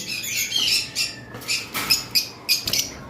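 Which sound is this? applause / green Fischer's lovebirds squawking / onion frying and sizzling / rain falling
green Fischer's lovebirds squawking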